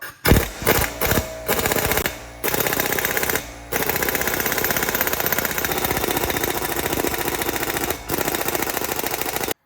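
An air impact wrench hammers in long, loud rattling bursts on the front axle nut of a 3rd-generation Ram 3500, stopping and restarting several times with brief pauses between runs, up close with no talking.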